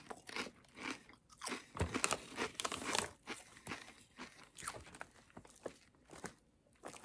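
Takis Fuego Kettlez kettle-cooked chips, a spicy chili-lime snack, crunch close to the mic in irregular bites and chews, quiet and crisp with no talking.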